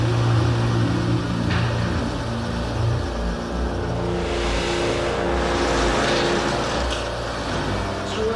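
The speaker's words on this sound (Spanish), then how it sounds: "Entra en el garaje y enciende el motor del coche." A car engine runs and revs inside a garage, a continuous loud rumble with rising and falling surges throughout, close by and with no talking.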